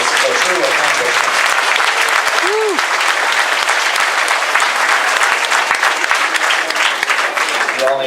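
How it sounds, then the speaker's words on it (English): An audience claps steadily at a sixth grade graduation ceremony, a loud, even wash of applause lasting several seconds with faint voices mixed in. "Please give all these avid readers a round of applause."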